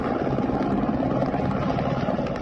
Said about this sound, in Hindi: लड़ाकू हेलीकॉप्टर से हमला हो रहा है।